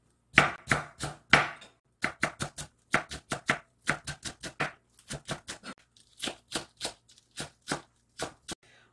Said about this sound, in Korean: 무를 이렇게 썰어서 준비해 주시고요. 급하니까 어슷어슷 썰어주세요.